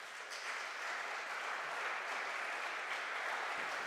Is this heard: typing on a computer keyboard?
no